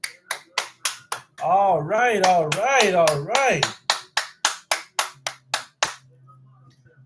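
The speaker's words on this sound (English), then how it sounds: "Give yourselves a round of applause" One person claps in single, evenly spaced, sharp claps, close and crisp, briefly paused while someone speaks over a sung-sounding phrase, then the steady claps resume alone.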